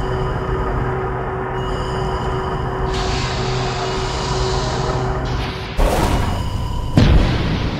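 A constant low rumble and hum give way to two heavy, muffled underwater torpedo explosions, the second one deeper and louder, ringing out afterward.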